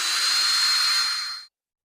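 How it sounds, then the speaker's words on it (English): A steady, close power drill whines for about a second and a half while boring a hole in wood for a rustic suet feeder, then cuts off abruptly into silence. "So I'm going to drill just a couple of holes here."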